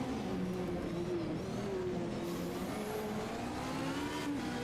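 A race car climbs a hill course at the Coppa Paolino Teodori, European Hill Climb Championship, its engine roaring steadily and rising in pitch as it accelerates, loud and close, with no voices.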